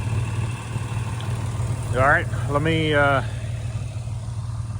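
A John Deere 2155 tractor engine runs with a steady, low, even drone during mowing, while someone speaks briefly over it.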